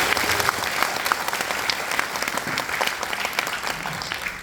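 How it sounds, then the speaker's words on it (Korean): A church audience applauds together for several seconds, a dense, even wash of many hands clapping at moderate volume, with no talking. "서로 같이 박수를"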